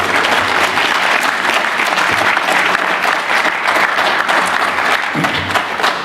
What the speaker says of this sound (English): So students, please give your parents a round of applause